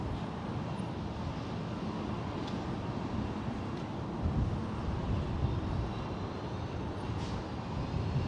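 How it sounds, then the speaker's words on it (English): A Southwest Boeing 737-700 airliner arriving to land at San Jose International Airport, a steady broad engine rumble and roar heard from a distance, without talk. "Southwest 446 coming in from Long Beach. Boeing 737-700."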